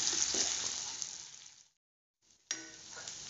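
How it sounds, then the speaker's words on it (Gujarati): Sabudana khichdi being mixed in a pan, a soft continuous sizzle and scraping that drops to near silence halfway through, then resumes abruptly and steadily. "હવે સાબુદાણાને આપણે બધા મિક્સ કરી લઈશું."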